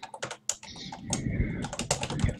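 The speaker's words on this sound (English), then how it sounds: "That typing though." Computer keyboard typing during a Diablo 3 game session, quick irregular bursts of sharp clacks, close and clear, with short pauses between runs of keystrokes.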